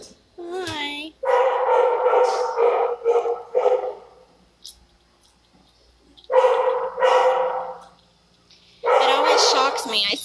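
Dogs at the OKC animal shelter bark loudly and close by in several clustered bursts, with short pauses and quieter gaps between volleys.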